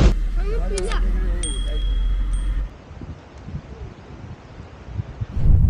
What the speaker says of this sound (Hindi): इधर ना इतना तेज हवा चल रहा है